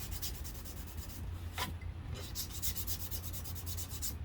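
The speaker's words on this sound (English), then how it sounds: "emery board, and I'm just going to sand a few spots off." An emery board rubbing a few spots off a Dollar Tree farmhouse decor piece to distress it: quick, steady back-and-forth scratchy strokes, close and soft, with a short pause midway.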